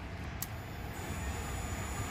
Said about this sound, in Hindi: ये तो हो गया एक नॉर्मल साउंड जो कि आपको गाड़ी स्टार्ट करने पे मालूम पड़ेगा।